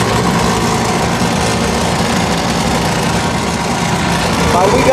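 A rooftop HVAC unit's inducer motor with failing bearings runs continuously at close range, a steady rough hum and vibration without breaks.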